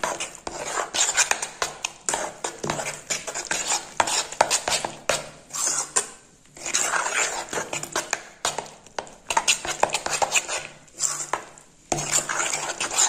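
Idli batter with a pinch of baking soda is stirred in a bowl, producing close, steady scraping and clinking of a spoon against the bowl in quick repeated strokes with brief pauses.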